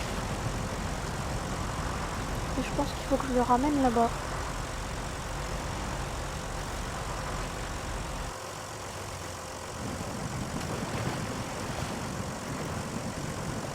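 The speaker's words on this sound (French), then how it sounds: "On va allumer son moteur à lui, là." A tractor engine in the video game SnowRunner idles steadily and fairly loud throughout, with a voice talking over it for most of the stretch.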